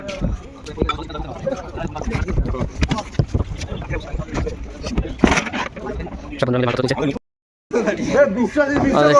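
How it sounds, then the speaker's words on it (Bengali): A passenger launch boat departs from a river ghat, its engine and water noise running beneath nearly constant voices of people talking aboard, with a brief dropout near the end. "দেখতে দেখতে আমাদের লঞ্চ ছেড়ে দিয়েছে"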